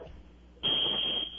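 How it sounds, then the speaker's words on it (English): A hurricane alarm sounds, a sharp high electronic tone that starts abruptly and holds steady and loud for under a second over low background noise. "there's a hurricane alarm going off."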